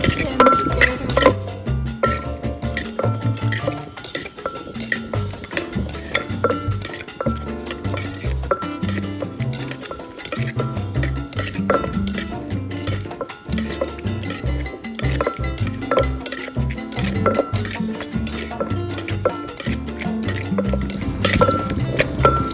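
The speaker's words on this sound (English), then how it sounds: "Add lime. Mix them together." A Thai papaya salad with seafood is mixed with lime, giving continuous clinking and light knocking of utensils against a bowl, with wet squishing sounds throughout at close range.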